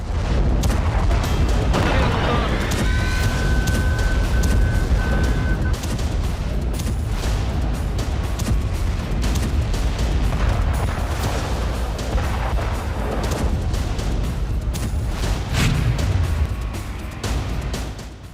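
Bombs explode over Dahiyeh, the Hezbollah stronghold in Beirut, in a dense, loud barrage of deep booms and rumbling blasts that keeps going with hardly a pause.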